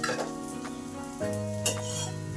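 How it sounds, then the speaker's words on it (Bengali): Potato-stuffed paratha frying in a pan, heard as close, steady oily sizzling under a faint tonal hum, with a sharp scrape or clatter partway through as it is turned; no voices. "এভাবে উল্টে পাল্টে 2 দিক ভেজে নিলেই হয়ে গেল গরমা গরম নাস্তা"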